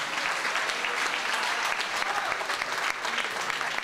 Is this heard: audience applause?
yes